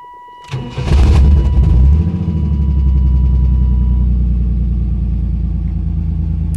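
A 1992 Chevrolet S10 Blazer engine cranks and starts with a loud burst, then settles into a steady, smooth idle that rumbles on without talk.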